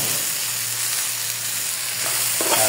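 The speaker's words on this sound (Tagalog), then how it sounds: "Halo natin para lumasa yung ating mga sangkap." Squash, string beans and crab being stirred in coconut milk, a steady close bubbling sizzle with soft scraping throughout, no voices.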